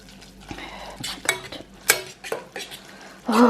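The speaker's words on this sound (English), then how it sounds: "Stir all that in." Food being stirred in a pot, with scraping and clinking of a utensil against metal in irregular strokes, a few sharper knocks, and a faint sizzle underneath.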